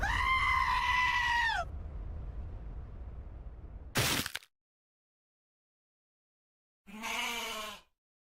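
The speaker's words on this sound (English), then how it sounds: "Here comes some goats." Goats in Destiny 2 bleat in separate loud, wavering calls: one long cry, a short harsh burst, then another bleat after a silent pause.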